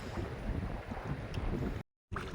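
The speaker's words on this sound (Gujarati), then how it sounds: "પવન નીકળી આવ્યો" Steady wind buffets the microphone with a low, rushing roar while fishing, broken by a brief moment of silence near the end.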